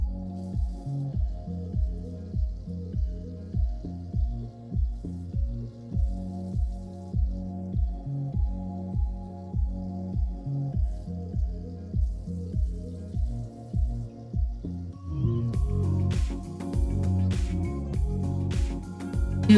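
Water pours and drips over a bleached lace front wig during rinsing, with a steady rhythmic pattern of splashes and squishes. Near the end it turns into a louder, continuous rush of running water.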